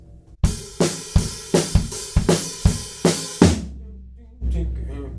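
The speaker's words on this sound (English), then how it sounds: "we have a kick, floor and snare, to bring it back in" A drum fill across kick, floor tom and snare in a rock beat: eight loud, evenly spaced hits ringing close, then a pause and one held low resonant decay at the end, with no talking.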